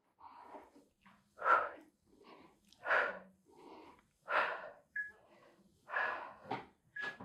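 Forceful breathing during an arm-toning exercise workout, about six sharp rhythmic exhales alternating with softer inhales, close and fairly quiet.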